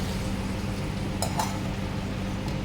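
A metal lid set onto a cooking pot, one or two brief light clinks that sit under steady sizzling and cooking noise.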